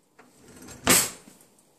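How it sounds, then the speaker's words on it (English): A drawer pushed shut in a kitchen, one soft thud with a brief rattle, close and fairly quiet, followed by a faint tail of settling noise. "Close the drawer, or close the door."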